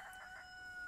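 Farm chickens among corn rows give short clucking and crowing calls, faint and a little distant, with no talk over them.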